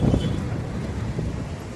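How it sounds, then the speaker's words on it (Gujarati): Cool wind blowing at the beach in Dwarka, buffeting the microphone as a steady low rumble with gusty swells, close and fairly loud, with no talk over it. "બહુ મસ્ત ઠંડો ઠંડો પવન આવે છે"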